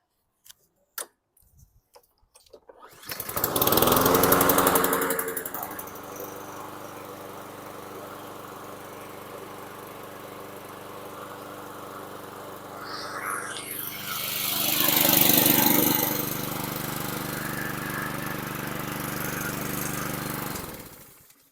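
A 2017 Yard Machines push lawn mower, long stored unused, coughs through a few quiet pull attempts, then catches and runs loud and steady close by, surging briefly partway before settling back to an even idle-like drone.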